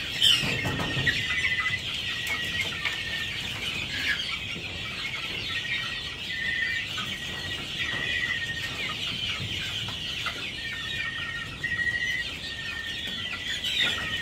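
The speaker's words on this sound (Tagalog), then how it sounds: "ang gaganda ng mga sisiw talaga natin" Chicks chirping continuously in a high, shrill chorus with scattered soft clucks, steady and fairly close throughout.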